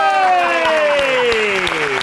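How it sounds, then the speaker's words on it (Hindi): Studio audience applause at an Eid special entertainment show, a steady patter of many hands sitting beneath a man's loud, drawn-out voice from start to finish. "अब मारो ताली।"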